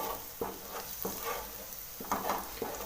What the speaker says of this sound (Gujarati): તો હવે આપણું જે લસણ છે તે સરસ મજાનું સતળાઈ રહ્યું છે